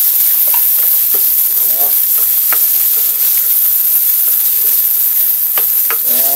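Garlic, onion and tomato sauté in a hot pan with a loud, continuous sizzle, broken by scattered scraping and stirring clicks of a utensil, close by.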